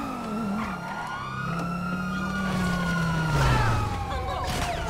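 Police car siren wailing in Grand Theft Auto, its pitch sweeping up and down steadily for several seconds against engine rumble and game traffic noise.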